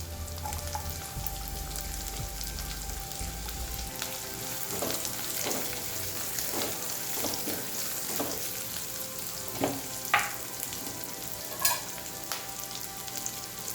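Sliced onion and half a carrot sizzle steadily in a hot pan with oil, garlic and ginger, with soft stirring scrapes and a few louder crackles over a constant frying hiss.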